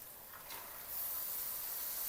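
Pieces of mutton hit a hot pan while spinach mutton gravy is cooked, setting off a steady, soft sizzle that grows a little stronger and continues alone.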